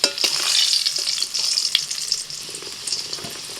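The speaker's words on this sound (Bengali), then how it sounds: "আলুগুলোকে একটু লাল লাল করে ভেজে তুলে নিচ্ছি।" Potato pieces frying in mustard oil with salt and turmeric, a loud continuous sizzle with crackling spatters and stirring scrapes that eases off slightly toward the end.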